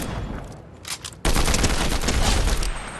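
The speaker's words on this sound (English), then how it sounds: "I know this guy's got to come to me at some point, and here he comes. And all I do is just pick him off." DMR rifle shots in a shooter game: a few sharp cracks at first, then a sudden loud burst of fire that fills the rest of the moment, close and harsh.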